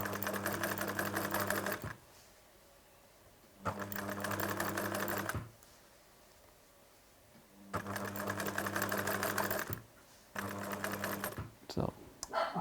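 A sewing machine stitches a knitted cardigan sleeve to the body in a steek, running in several rapid mechanical bursts of a few seconds each with pauses between, close up, while a person talks.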